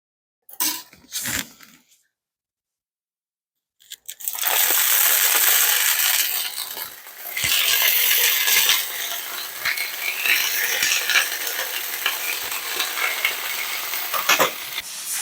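Swedish sausage fries in olive oil in a pan with a loud, continuous crackling sizzle that begins after a few clinks and a short silence and then pops and spits throughout.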